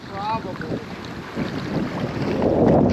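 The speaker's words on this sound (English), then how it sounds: "You can hear the wind beating on the bridge." Wind gusting against a bridge by the Santee Cooper tailrace canal at Lake Moultrie, a close, rumbling buffet on an unshielded microphone that swells toward the end, with a brief spoken word early on.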